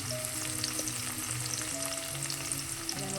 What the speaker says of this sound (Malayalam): വെളിച്ചെണ്ണ അതിൽ ഏകദേശം 1 ടീസ്പൂൺ പെരുംജീരകം ഇട്ടൊന്ന് മൂപ്പിക്കാം